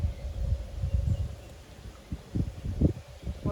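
Wind gusting around an outdoor beehive, low rumbling buffets rising and falling throughout with no clear voices.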